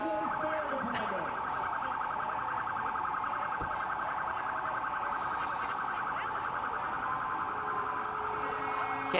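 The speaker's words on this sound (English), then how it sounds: "It's also a hyper yelp siren." A New York Mills fire truck runs a hyper yelp siren, a loud, rapid warbling wail that holds steady throughout. It sounds against parade crowd noise, with a brief low thump partway through.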